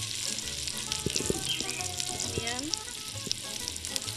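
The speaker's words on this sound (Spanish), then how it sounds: "Vamos a llevar la cebolla para que se doren." A medium onion frying and browning in a pan gives a steady, close sizzle with occasional light stirring clinks, and a voice speaks briefly over it.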